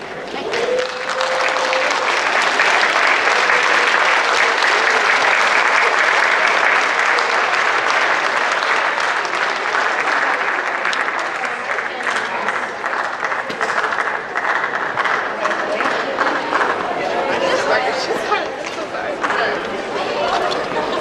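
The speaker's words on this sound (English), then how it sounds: "please join me in giving a huge round of applause to the class of 2022 Academic Achievement Scholars" At a senior awards ceremony, a large crowd gives sustained applause for the 2022 academic achievement scholars. The clapping is loud and continuous for a long stretch, easing slightly toward the end, with faint chatter mixed in.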